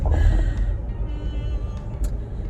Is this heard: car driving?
yes